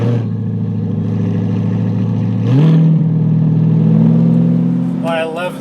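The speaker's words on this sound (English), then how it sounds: "I love the sound of the car now." A C8 Corvette engine revs up loudly and steadily on a race track, pitch climbing as it accelerates, with a brief shift midway and a rising whine near the end.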